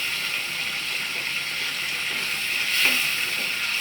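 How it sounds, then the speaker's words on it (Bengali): Ginger fries in oil while being stirred, making a steady hissing sizzle up close, with a slight swell and faint scrape near the end and no talking. "আদাটাকে ভালো করে ভেজে নিতে হয়"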